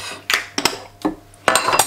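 Utensil knocks and scrapes in a bowl while ricotta, eggs, salt and pepper are mixed, coming as a few separate bursts of clinking with short pauses between them.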